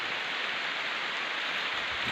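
Steady rain hissing evenly on a surface, a dense continuous wash of patter with no voices.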